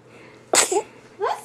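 A baby in a crib lets out a single sharp, close sneeze, followed by a couple of soft little vocal sounds.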